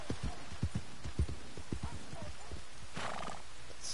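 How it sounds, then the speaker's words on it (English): Horse in a video game, heavy clip-clopping hooves in an uneven run followed by a short whinny, with a voice talking in the background. "Stupid horse is stopping me."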